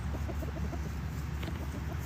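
Rooster clucking on a small hobby farm, a series of short low clucks repeating close by over a steady background of outdoor noise.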